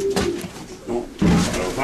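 Racing pigeons, yearling birds, cooing inside a loft: low soft coo phrases repeat in short bursts, close by, with people talking over them.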